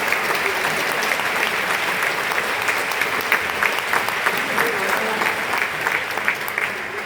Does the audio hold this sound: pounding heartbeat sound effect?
no